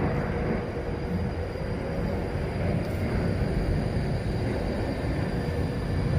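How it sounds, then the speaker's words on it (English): An Avanti West Coast train pulling away from platform 4 at Birmingham International on the West Coast Main Line, a steady low rumble and rolling drone heard fairly close and without any talking. "Avanti West Coast now leaving the station"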